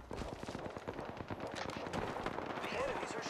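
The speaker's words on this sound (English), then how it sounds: "The enemies are shooting at me." Enemy gunfire crackles in an Apex Legends match, rapid shots and bursts popping repeatedly at close to mid range while a voice talks over it.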